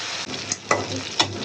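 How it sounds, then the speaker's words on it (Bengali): Chicken sizzles steadily in hot oil, with a few sharp scraping stirs of a utensil against the pan, close and continuous. "আমাদের মুরগিরা খুব সুন্দর করে ভাজা ভাজা করতেছি"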